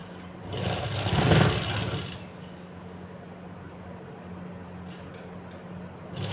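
A sewing machine stitches net lace onto a printed kameez, whirring loudly in a short burst before settling into a steady, even mechanical hum, close by with no voices.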